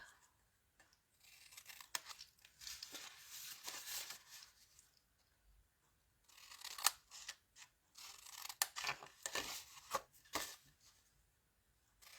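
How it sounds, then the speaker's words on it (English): Scissors cut pretty paper for making a box, giving quiet, close snips and crisp slicing strokes that come in irregular bursts separated by short pauses. "Cut up straight, cut the tab, cut the tab."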